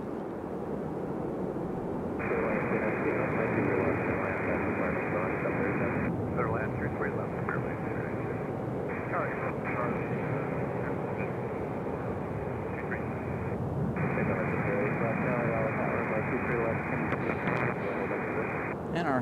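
A Spirit Airlines Airbus A321neo at Raleigh-Durham International Airport produces a steady, loud jet roar that holds for most of the stretch, over constant wind and background rumble.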